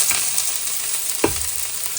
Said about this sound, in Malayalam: ഇതാ സവാള ഇടുവാണ്